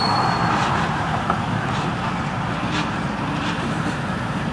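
A Florida East Coast freight train slows to a stop at the St. Lucie holding signal, giving a continuous broad rumble and rolling rail noise heard from nearby with no talk over it.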